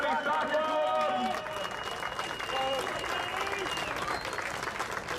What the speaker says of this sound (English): can we please get a long, loud round of applause for Orange County Soccer Club?